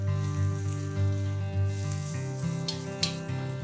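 Sesame seeds saute in hot oil for a Maharashtrian kanda khobra vatan gravy base, giving a faint steady sizzle under a low hum, with a few light clinks near the end.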